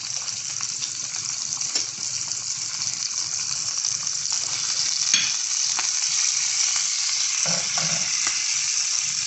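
Onion sizzles loudly in a pan with a dense, steady hiss. A few scrapes and clicks rise above it now and then, and there is a brief clatter near the end.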